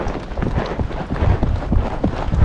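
A horse trots along a countryside trail ride, its hooves striking in a steady, close two-beat clip-clop with some wind buffeting the microphone.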